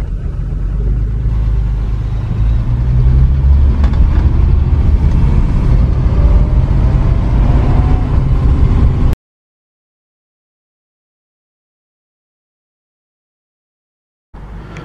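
A 1972 Volvo 164 E engine rumbles steadily from inside the car as it drives, a loud continuous drone. It cuts off abruptly into several seconds of silence before briefly resuming.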